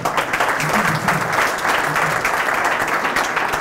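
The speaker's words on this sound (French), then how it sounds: "Je vous demande d'applaudir Stéphane Offray." Sustained, dense clapping fills the space at a French poker event, a steady crowd applause at close range with some voices faintly under it.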